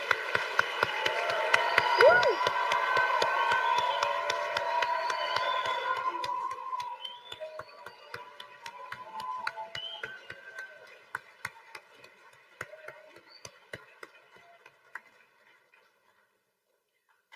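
Applause and cheering for new medical students at a white coat ceremony, a large crowd clapping loudly at first, one voice whooping, then thinning to scattered claps that fade out.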